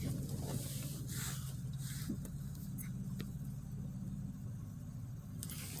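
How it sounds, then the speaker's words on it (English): A car goes by on Shaw Avenue in McKeesport, a steady mid-level road rumble of tires and engine that lasts the whole few seconds, with no talk. "And got a car coming."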